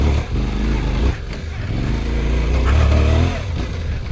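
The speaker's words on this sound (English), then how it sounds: "I'm considering that this is a big adventure bike." A 2024 Suzuki V-Strom 800DE adventure motorcycle rides on, its engine giving a loud, continuous low drone with slight rises in revs and wind rush throughout.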